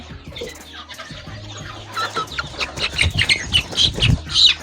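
Country chickens (natu kodi) on a farm cluck and squawk in overlapping bursts that grow busier and louder toward the end, including a young female bird about three months old, with no talking.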